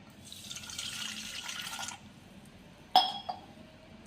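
Water pours in a steady splashing stream for about two seconds onto sugar to dissolve it for dhokla batter, then stops, followed by a few clinks and taps of a utensil.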